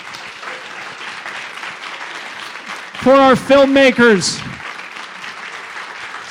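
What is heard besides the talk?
audience applause for a guest and filmmakers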